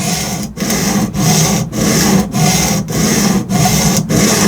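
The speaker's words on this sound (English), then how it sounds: "I'm just going to do the push-pull method for right now until we get rid of this, until we grind a new apex." Steady push-pull strokes of a knife blade across an Atoma diamond whetstone on a Tsprof K03 Pro Hunter guided sharpener, a continuous gritty rasp broken by brief pauses at each turn, about seven strokes, close and loud.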